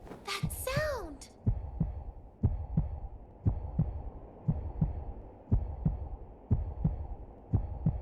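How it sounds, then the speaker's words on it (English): Steady, repeating heartbeat effect from the video game Donkey Kong Bananza, a low double thump pulsing about once per second, loud and close, with a brief rising sung or voiced tone at the start. "It's a heartbeat."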